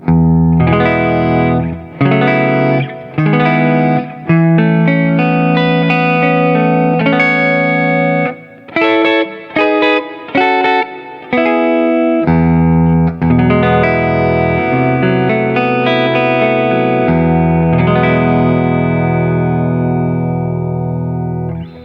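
Open chords ring out on a PRS SE Starla electric guitar with a warm, thick neck-pickup tone, strummed and left to sustain, with a touch of effects.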